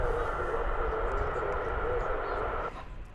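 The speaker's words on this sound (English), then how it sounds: "So we don't specialize in military aircraft here at Runway DFW, but there you have one." A military aircraft passes at DFW Airport, a steady loud engine roar with broadband rumble and a whining tone that holds for most of the moment before dropping off near the end.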